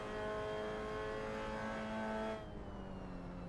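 Mazda MX-5 race car engine in a racing video game, held at a steady high-revving drone that drops off sharply near the end and settles into a lower hum.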